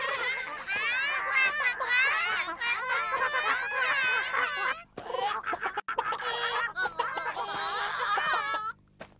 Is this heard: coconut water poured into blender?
no